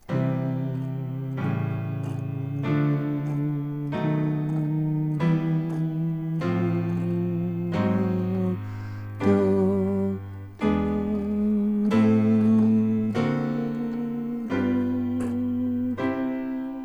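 A slow sequence of sustained chords harmonizing an ascending chromatic scale, each block changing pitch step by step in a steady upward progression, played alone on what sounds like a keyboard.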